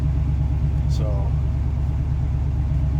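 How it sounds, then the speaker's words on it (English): An old Camaro's engine runs warming up with a steady low rumble, while someone says a single brief word over it. "Basically have to let the engine warm me up."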